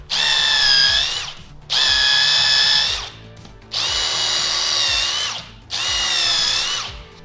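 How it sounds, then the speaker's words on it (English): A power drill bores holes through leather harness straps in four separate whining bursts, each about a second long, loud and close, with short quiet pauses between. "They need to get drilled out too, so we can run them through a hole and then fasten them to themselves."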